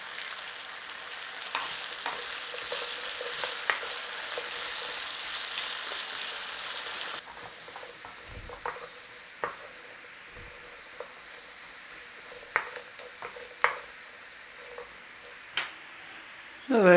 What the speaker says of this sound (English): Now we are frying these potatoes for colour.